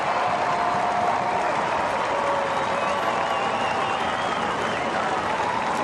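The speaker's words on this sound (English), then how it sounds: "Sense the crowd just lift when Cyril was headed towards the ball." Football stadium crowd at an AFL match between Hawthorn and Gold Coast roars continuously at a goal, a loud, steady wash of cheering and clapping with no gaps and no clear speech.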